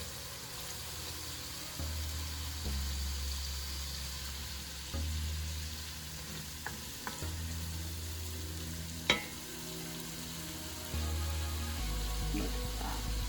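Spices fry and sizzle in a pan while a spoon stirs them for a green gram stew, a soft continuous hiss with occasional scrapes and clinks under a low hum.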